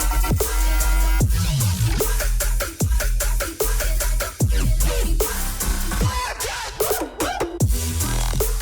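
An electronic track plays loud with booming bass, punchy kicks and sweeping, pitch-bending synth stabs and glitchy bursts, building busier near the end.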